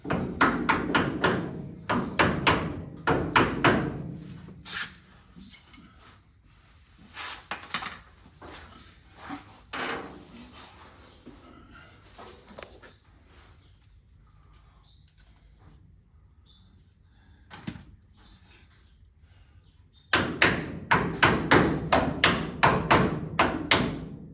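A tapered wooden piece is tapped into place during a Peugeot 201 restoration, with rapid clusters of sharp close taps at the start and end, separated by a quieter stretch of scattered knocks.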